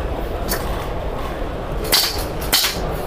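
A Nexxus HPA airsoft gun with an ARC engine fires a few sharp, close pneumatic snaps spaced apart over a steady background hiss of room noise.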